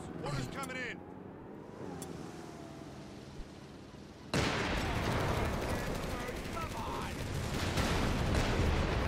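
Gunfire and artillery fire from the World War II strategy game Company of Heroes 3, starting with scattered shots and engine rumble, then turning into a dense, continuous barrage of crackling gunfire and blasts.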